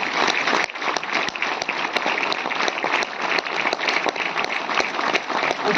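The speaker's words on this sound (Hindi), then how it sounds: "जोरदार तालियां हो जाएं उनके लिए।" Sustained applause from an audience at a Delhi railway goods-shed workers' union programme, dense clapping filling the whole stretch at steady loudness with no pauses.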